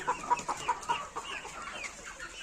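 Desi country chickens cluck on a farm in a quick run of short, sharp calls, with more scattered clucks following. The birds sound moderately near and fairly quiet, and no voices are heard.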